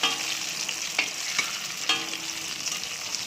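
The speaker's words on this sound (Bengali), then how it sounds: "এখন বেগুন ভাজাটা করে নিচ্ছি" Eggplant slices frying in a pan give a steady close sizzle with a few sharp crackles and pops, with no one talking.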